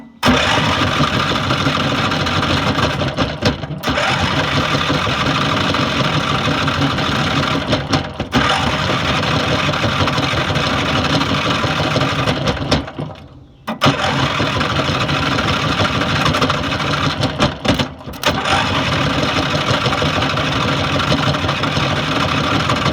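A racing lawn mower engine cranking and running, a loud steady mid-pitched drone that cuts out and restarts several times, close and continuous with no talk.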